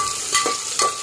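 Long-cut onion and whole spices fry over a medium flame for plain biryani, a close, soft sizzle with two quick stirring swishes.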